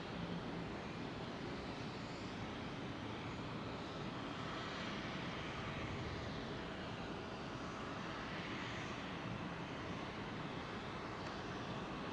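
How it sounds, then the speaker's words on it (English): A Boeing 787 Dreamliner departs over London Heathrow, heard as a faint, distant, steady jet rumble and wash that holds evenly for about twelve seconds with no voices. "I just want to see if I can get some floofage off this Dreamliner"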